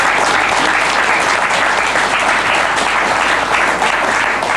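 Loud, dense applause from a large German TV studio audience greets the Austrian Giant 1996 strongman title winner, a steady unbroken roar of clapping from start to finish.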